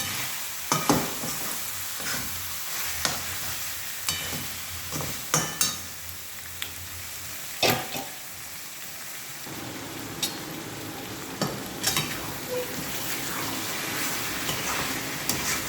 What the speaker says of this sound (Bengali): চিকেনটা আমি ভালো করে কষিয়ে নিচ্ছি